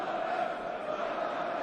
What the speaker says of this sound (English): having crowd noise added to it.